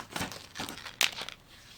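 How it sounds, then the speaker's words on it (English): Dull scissors chew through a crocheted Romanian fabric cord for a necklace in several close, rough, crinkly snips, with the last cut the sharpest. "my scissors is not sharp"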